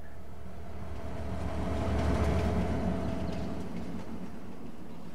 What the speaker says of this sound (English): It sounds like a train, guys.